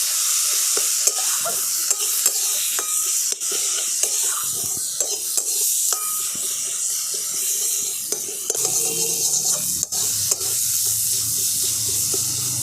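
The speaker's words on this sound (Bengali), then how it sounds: "এইবারে সমস্ত মশলাগুলো আমি একসঙ্গে ভালো করে কষিয়ে নেব।" Ground coriander and cumin sautéed together in a pan with egg and potato, a continuous close sizzle broken by frequent scraping stirs of a spoon against the metal, with a brief running-water patch near the end.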